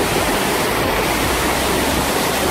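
The waterfalls of Baume-les-Messieurs in the Jura, France, roar as a loud, constant broadband rush of heavy falling water, heard from very close with no break.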